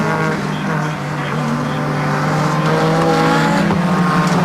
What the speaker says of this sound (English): So Bondy comes through in car number 8